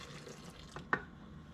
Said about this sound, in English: you really want it to be hot out of the faucet